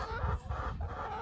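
Pastured laying hens in a mobile eggmobile coop cluck and murmur together in a continuous, close, busy chatter, with no one speaking.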